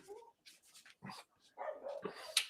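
Small family dog barking a few times at close range, short sharp yaps with brief gaps between them and no talking over them.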